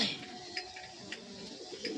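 A pigeon held in a person's hands gives soft, low coos in short bursts, close and fairly quiet against a faint background, with no talking.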